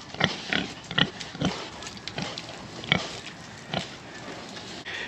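Pigs on a farm grunting and snuffling in a series of short, close bursts over steady outdoor background noise, with no talking.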